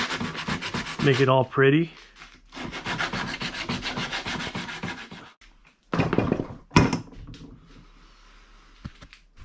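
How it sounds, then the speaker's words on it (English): Sandpaper scrubs a cut piece of PVC pipe for a kayak cart in fast, close back-and-forth rasping strokes, coming in long bursts with pauses and a few knocks, while someone talks briefly. "And then some sandpaper."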